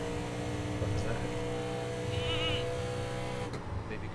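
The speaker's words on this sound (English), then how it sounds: "Baby goat." A baby goat bleats a few times over a steady engine drone, with a wavering cry standing out briefly in the middle.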